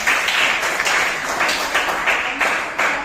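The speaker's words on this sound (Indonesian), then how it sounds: "Tepuk tangan buat kita semua." A classroom of students applauding during a ninth-grade social studies lesson, a steady, dense wash of clapping that carries on throughout at close range, with rhythmic surges of claps.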